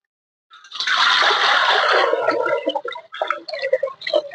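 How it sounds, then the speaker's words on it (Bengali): Water gushes into a pot for cooking biryani rice, a strong splashing pour that thins into uneven sloshing and dribbling as the stream tapers off. "এবার জল দিয়ে দেবো।"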